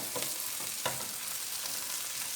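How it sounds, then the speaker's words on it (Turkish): Onions sizzling steadily in hot oil over high heat, a constant crackling hiss with a few brief stirring scrapes. "Şimdi soğanımızı kavuruyoruz."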